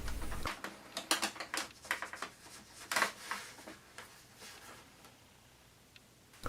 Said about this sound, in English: As the printer head is moving to the middle